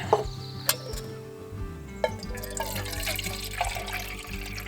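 Water poured from a bottle into a freezer bag for a backpacking meal, a steady close splashing and trickle after a few sharp knocks, with no one speaking.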